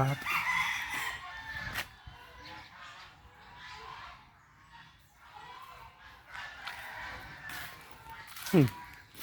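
Pheasants call in loud, harsh bursts amid other bird sounds at a Thai temple in Nong Bua Lamphu, with faint voices murmuring underneath and a sharp cry near the end.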